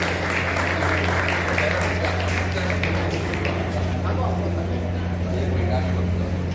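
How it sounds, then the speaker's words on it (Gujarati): Audience applause honoring a taluka-level best teacher award winner at a Teachers' Day ceremony: steady, dense clapping throughout with a constant hum beneath, no clear break. "આપણે સૌ તાળીઓના ગગડાટથી વધાવીશું."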